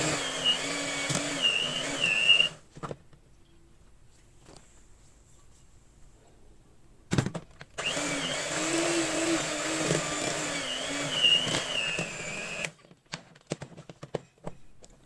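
An electric mixer whirs steadily while beating eggs, added one at a time, into churros dough, running in two long stretches of about two and five seconds each, separated by a quiet pause, with short bursts near the end.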